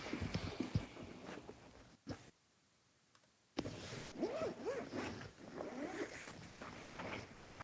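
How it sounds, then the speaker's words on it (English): A zipper pulled open on a bag, with brief rasping zip bursts close by, a short silent gap, and someone talking through much of it. "I'm hearing zipper noises, like somebody's opening a bag."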